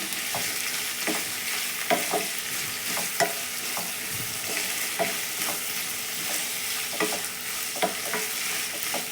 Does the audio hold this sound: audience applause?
no